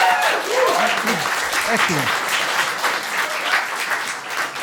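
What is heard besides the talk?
pub audience applause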